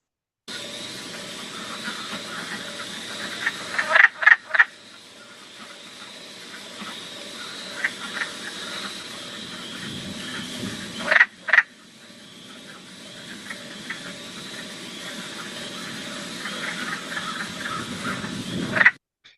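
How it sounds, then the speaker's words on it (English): Male wood frogs calling for mates at a vernal pool during spring migration, a steady chorus of soft clucking croaks with several louder, closer bursts standing out against the background throng. "The male wood frogs usually are the first to arrive at the vernal pool, and they'll call loudly for the females"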